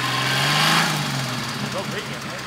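A diesel tractor engine idles nearby in a steady low rumble throughout, with people talking over it at an outdoor vehicle show in Landgraaf, Netherlands.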